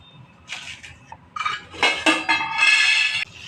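A spoon stirs Gujarati-style dhokla batter in a bowl, making close bursts of scraping and metallic clinking that grow busier toward the end, with no speech.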